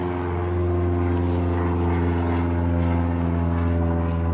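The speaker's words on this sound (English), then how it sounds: "Airplane." A propeller airplane flies overhead, its steady droning engine hum loud and continuous throughout, with no talking.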